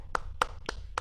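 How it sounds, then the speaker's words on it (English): A few sparse, separate hand claps for a solo piano performer at an online performance seminar, four distinct slaps spaced about a quarter second apart over a faint background hum. "Let's clap it up for her."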